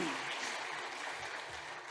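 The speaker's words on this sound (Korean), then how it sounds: "박수 부탁합니다" Congregation at a Sunday church worship service applauding together, a steady wash of clapping from many hands that fills the room evenly for a couple of seconds.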